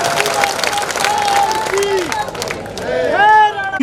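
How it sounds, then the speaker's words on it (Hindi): Audience applause at a Hindi-language speech event, a steady wash of clapping and crowd noise running throughout, loud and close, with a voice talking over it and a swelling cheer near the end. "जिसके समझ में आया ताली बजाओ"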